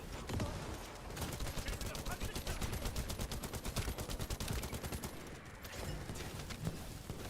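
Rapid video-game gunfire rattles in fast bursts, the shots crowding together in a dense volley with brief pauses between, with a voice in the background.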